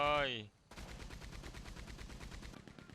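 After a brief voice, rapid gunshots in Red Dead Online rattle out in a steady, fast stream of evenly spaced cracks, loud and close, for a couple of seconds.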